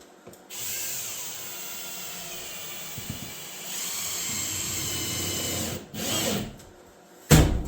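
A cordless drill driving 2.5 inch number 8 construction screws into a garage storage shelf, with several close whirring bursts of varying length separated by quiet gaps and a sharp clatter at the end.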